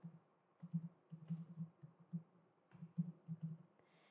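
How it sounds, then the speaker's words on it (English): Fingers type a store name on a computer keyboard, soft clustered key taps in quick bursts with short pauses, faint and close in an otherwise quiet room. "So I'll just type cycle store over here."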